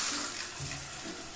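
Water from a shower runs in a steady close hiss of spray, loud and continuous over a short moment with no talk.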